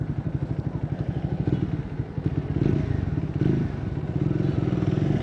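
A Triumph Scrambler 400 X motorcycle engine chugs with a rapid, throbbing rhythm while riding, close and fairly loud, with some clatter and shifts in pitch.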